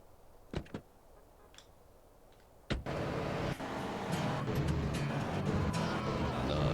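In GTA San Andreas a car passes. After a few sharp clicks, a loud, broad engine roar starts suddenly and holds steady to the end.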